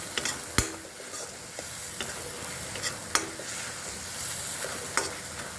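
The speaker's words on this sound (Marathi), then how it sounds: "तेल सुटेपर्यंत याला आपण चांगला परतून घ्यायचा" Masala being sautéed and stirred in oil in a kadhai for egg biryani, a steady close sizzle broken by sharp spoon knocks and scraping strokes every second or so, with no talk.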